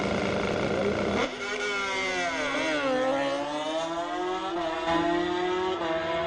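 Kawasaki drag racing motorcycles launch at a Division 5 ET finals event. A loud high-pitched engine roars from the start and revs climb and fall in sweeping waves, close and continuous throughout, with a faint announcer voice beneath.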